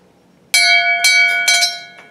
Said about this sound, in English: one of our members, Ron Kurtz, picked up from their archives this bell,